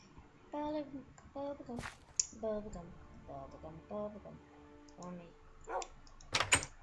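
A wooden door is placed in the video game Minecraft, a brief thump among several short game clicks and block sounds, with a person talking over much of it.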